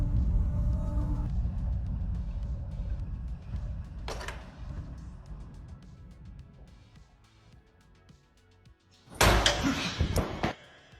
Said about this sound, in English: Without warning, the stall suddenly slams on its own.